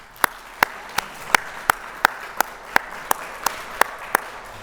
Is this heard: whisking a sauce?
no